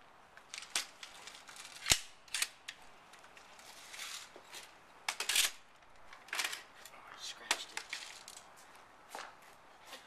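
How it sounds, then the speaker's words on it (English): Airsoft KingArms Tommy gun firing at an old iPod: sharp, snapping shots and clattering hits in irregular clusters over about ten seconds, some louder than others, against a quiet background. "Now, we're gonna shoot the iPod."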